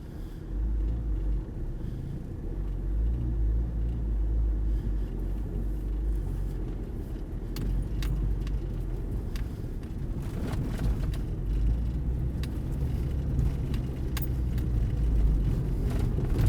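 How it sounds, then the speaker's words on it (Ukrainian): A Fiat Doblo car pulls away in third gear, its engine giving a steady, labouring low rumble with road noise that holds throughout, close and fairly loud with no talking. "Але третьою передачею рушати ну таке собі діло."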